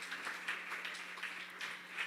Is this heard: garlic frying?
no